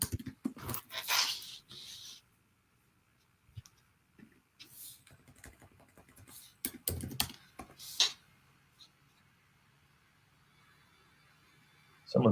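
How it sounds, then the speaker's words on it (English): Bursts of loud, clattering keyboard typing in quick runs during an online call, with pauses of near silence between them and a brief thump at the end. "Someone's typing loud."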